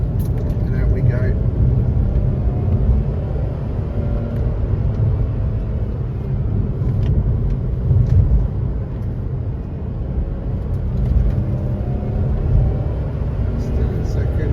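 An old automatic car pulls away in second gear on a bumpy, off-camber road, its engine a low, steady rumble from inside the cabin, with a driver talking over it.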